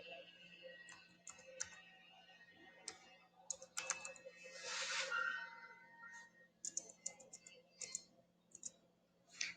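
Someone types on a computer keyboard, producing sparse, irregular key clicks and short bursts of taps with brief pauses, faint and close, with no voice.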